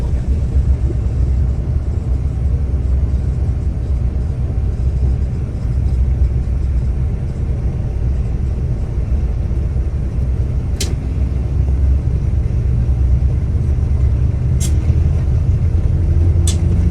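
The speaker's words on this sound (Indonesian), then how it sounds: "Bus sudah diberangkatkan dari Terminal Tanjung Priok." A long-distance bus leaving Tanjung Priok terminal in Jakarta gives off a steady low engine rumble and road drone from inside the cabin, continuous and even, with a few faint clicks and no talking.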